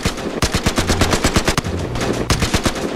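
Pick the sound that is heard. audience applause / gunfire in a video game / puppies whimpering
gunfire in a video game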